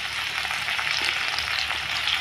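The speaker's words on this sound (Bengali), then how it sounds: "তেলটা গরম হয়ে গেছে, তেলে দিয়ে দেব পেঁয়াজ কুচি, দিয়ে দেব টমেটো কুচি" Chopped onion and tomato hit hot oil and give a loud, continuous hiss that stays close and even throughout the short stretch, with no talking.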